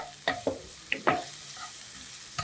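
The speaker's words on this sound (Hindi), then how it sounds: "ये है गाजर को सबसे पहले इसको थोड़ा सा सौते करना है ताकि ये सॉफ्ट हो जाए।" Carrots being sautéed in a pan and stirred with a wooden spoon: a few distinct scrapes and clacks of the spoon over a faint, steady background hiss. No one speaks.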